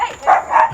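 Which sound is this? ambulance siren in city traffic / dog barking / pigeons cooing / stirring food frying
dog barking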